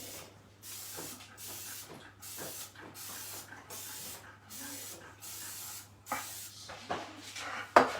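Short repeated hissing bursts from an aerosol cooking oil spray greasing a pan, about a dozen in steady rhythm, close by, with a faint low hum underneath.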